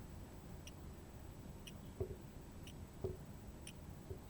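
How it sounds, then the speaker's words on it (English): A Chronos CH15 field watch ticks steadily about once a second, each tick a small, crisp, close-up click in a quiet room. "But yeah, this thing ticks loud."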